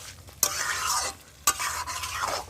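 Chicken pieces sizzle and hiss as they are stirred in a pan for a Bengali chicken kosha, with two sharp scraping strokes breaking a steady, close frying hiss.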